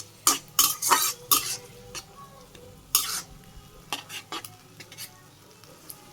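A spatula repeatedly stirs and scrapes a pot of spinach curry thickened with rice-flour paste. Irregular close scrapes and clinks sound over a soft sizzle, with no talking.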